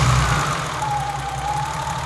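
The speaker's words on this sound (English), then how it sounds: "I'm going to start it up and see if the valve tick has magically disappeared." A BMW E30 engine that had a valve tick runs at a steady idle just after starting, a close, even mechanical hum with a light ticking texture and a soft whine, and no talking.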